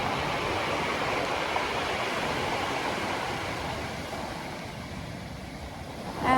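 Soft ocean waves wash in a steady, even surf that stays gentle and constant, easing slightly quieter near the end before a brief swell of sound at the close.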